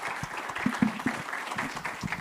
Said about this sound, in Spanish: Les pido un aplauso para cerrar esta conferencia.